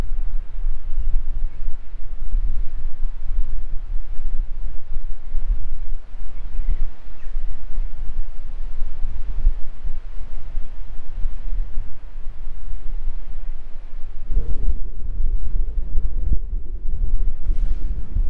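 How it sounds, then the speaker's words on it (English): Strong wind roars across the microphone on a rocky stretch of the Cornwall coast, a constant loud buffeting rumble that swells near the end. "because it is very windy here"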